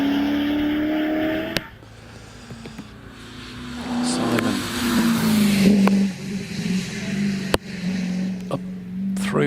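A TVR 350i sports car climbs a hillclimb course, its engine rising and falling through gear changes as it revs hard nearby, with a few sharp bangs along the way.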